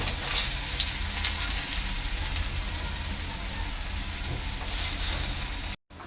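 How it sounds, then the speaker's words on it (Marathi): Rava-coated raw banana slices shallow frying in hot oil, a steady close sizzle with dense crackle throughout and a brief dropout near the end. "यामध्ये आपले केळ्याचे काप तळण्यासाठी तेलात सोडायचे आहे"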